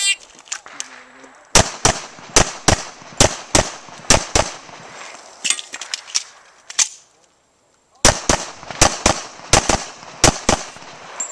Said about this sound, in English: Okay, so we got a late shot.